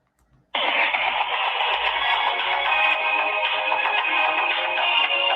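A song plays over a phone call through a speaker, beginning abruptly after a faint rustle and continuing steadily with a thin, band-limited tone and no talking over it.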